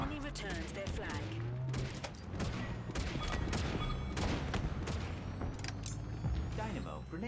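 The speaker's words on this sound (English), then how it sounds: "that was a well placed shot by that wraith" In a Halo Infinite capture-the-flag match, a Wraith tank lobs shots that land as heavy booms amid rapid bursts of other gunfire and explosions, dense and loud throughout the fight.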